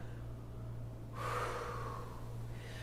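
Forceful breath during a kundalini yoga breathing exercise, a single loud rushing exhale through the nose that swells, holds for about a second and fades, over a steady low hum.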